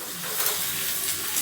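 Dried chillies and curry leaves sizzle steadily in hot oil as a tempering for chutney, a short continuous loud frying hiss with no talk.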